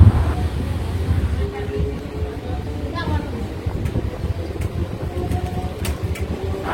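A local train pulling out of Shaktigarh station toward Barddhaman, a low continuous rumble and rattle from inside the carriage with wind noise, under faint background talk.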